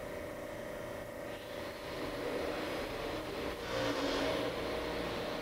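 A Harig EZ Surf 6 by 18 inch surface grinder hums steadily as an axis is jogged, its whine rising slightly in pitch and loudness partway through, with no talking.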